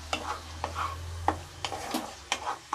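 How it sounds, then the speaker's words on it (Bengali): A vegetarian jackfruit dish is stirred as it fries in oil in a pan, with about eight quick, close scraping strokes over a soft sizzle. "এটা একটুখানি জাস্ট নাড়াচাড়া দেবো"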